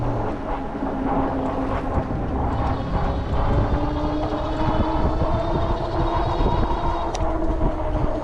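A Heybike Mars 3.0 folding e-bike's hub motor whines steadily while being ridden at speed, its tonal hum rising slightly in pitch under constant loud wind and road rumble, with no talking.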